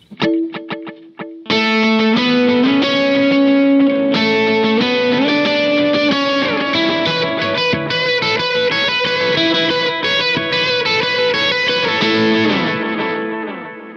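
An electric guitar plays a distorted, chorus-tinged lead line through a dual delay set to dotted-eighth and eighth notes, giving rhythmic ping-pong repeats. It is loud and sustained after a few clipped opening picks.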